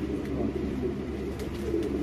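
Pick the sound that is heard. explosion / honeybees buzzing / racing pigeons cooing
racing pigeons cooing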